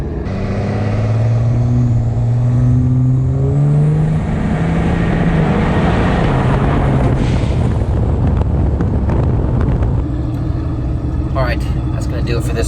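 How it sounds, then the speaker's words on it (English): A Cummins diesel engine with a turbo drones and climbs loudly, then breaks into a rough, windy roar, with rapid choppy fluttering bursts of compressor surge near the end. "Just get compressor surge."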